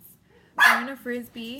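Dogs barking indoors, a sharp yip followed by two shorter barks in quick succession, close and loud, with a person speaking over them.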